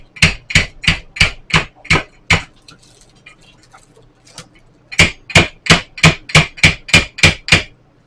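Chicken breast being pounded flat with a rolling pin in a kitchen: a close, loud run of seven sharp thuds, a pause with faint clatter, then another quick burst of about eight blows.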